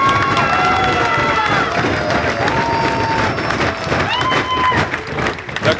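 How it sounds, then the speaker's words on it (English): A wrestling show crowd roars and cheers loudly and continuously after a big back body drop, with shouting voices and a dense wall of noise across the whole stretch. "The crowd going wild."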